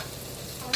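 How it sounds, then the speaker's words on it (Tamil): Paneer frying in a pan, a continuous soft sizzle with faint stirring, steady and close, ending in a brief louder scrape. "பன்னீரை ஃப்ரை பண்ணி"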